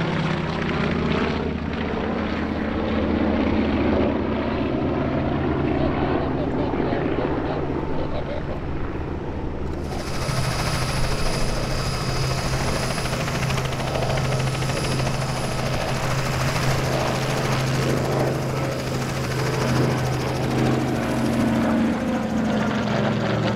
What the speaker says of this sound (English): Here is a truly memorable gathering of warbirds from the Hunter Valley Airshow in Australia, a seven-ship Balbo which served as the finale to the show.